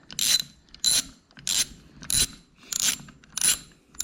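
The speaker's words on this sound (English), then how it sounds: "Now we're removing the bolt. This is a T40." A ratchet loosens a T40 bolt on a 2022 Harley-Davidson Street Bob 114, heard close up as six evenly spaced bursts of clicking pawl strokes with short pauses between them.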